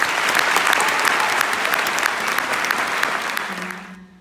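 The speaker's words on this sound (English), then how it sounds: "Please join me in giving them a round of applause in recognition of their academic accomplishments." Loud, dense applause from a graduation ceremony audience honoring the class of 2019, sustained clapping that thins and fades out near the end.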